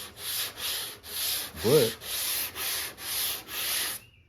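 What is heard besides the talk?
sanding block sanding a car body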